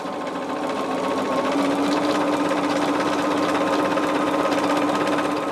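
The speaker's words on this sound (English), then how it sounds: "now all we're doing is sewing on this diagonal" A sewing machine runs steadily and continuously as it stitches a diagonal seam on quilt block pieces for an Ohio Star basket block, with a constant close mechanical whir and no talk.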